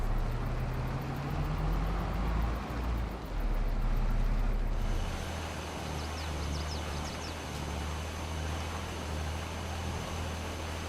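A tractor engine in a farming video game rumbles low and steady, running close and fairly loud, with a brief shift in tone partway through and no talk.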